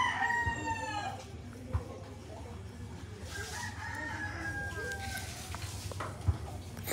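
A rooster crows twice, long drawn-out calls over a constant low background hum, with a few faint thumps in between.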